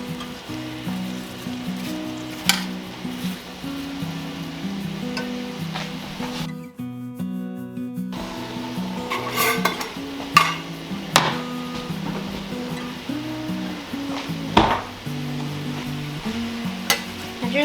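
Apple pieces coated in butter sizzle in a pan for a Dutch apple pie, a steady frying crackle broken by repeated utensil clinks and scrapes, with a brief near-silent gap partway through.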